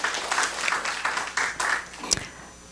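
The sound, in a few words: church audience applauding the presenters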